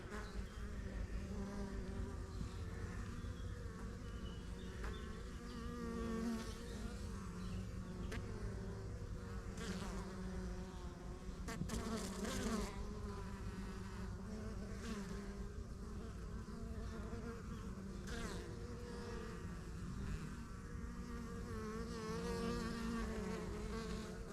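Honeybee colony humming steadily at the hive entrance early in the beekeeping season, a dense continuous buzz of many wings close by, with individual bees passing near and no talk.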